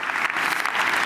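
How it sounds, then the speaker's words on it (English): Brief burst of dense audience clapping at a livestreamed panel event, a steady wash of many hands for about a second. "These guys, yeah, you should clap for them."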